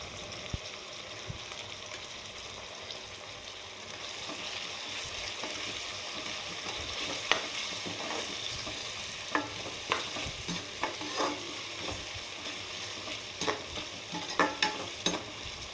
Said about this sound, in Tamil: பாருங்கள், வெங்காயம் தக்காளிலாம் நல்லா வதங்கிடுச்சு